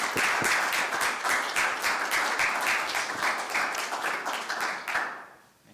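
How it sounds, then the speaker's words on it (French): An audience claps in applause after a church theology talk, a steady moderately loud patter of many hands for several seconds that fades out at the end. "je crois qu'on peut les applaudir"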